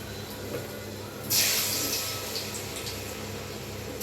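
Pumpkin bonda batter is dropped into hot oil in a kadhai and sets off a sudden close sizzling hiss that stays steady, then eases off slightly as the frying goes on.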